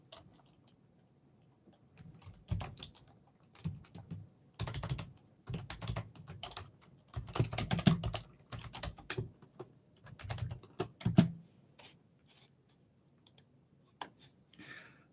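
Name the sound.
typing on a computer keyboard next to the microphone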